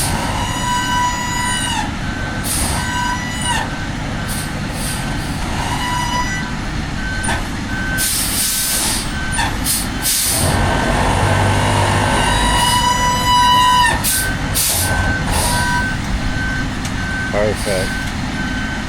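RGN lowboy trailer truck manoeuvring at a Mississippi air force base with an OshKosh FireStriker 1500, steady diesel rumble, repeated reversing beeps and sharp hisses of air brakes, with people talking over it.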